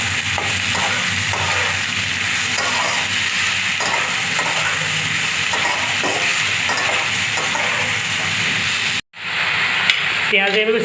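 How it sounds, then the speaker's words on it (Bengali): Onions fry in hot oil in a kadai with a steady, dense sizzle, broken by stirring. The sizzle cuts out briefly near the end, then resumes more faintly. "পেঁয়াজ এভাবে সামান্য কিছুক্ষণ ভাজা ভাজা করে নেবেন।"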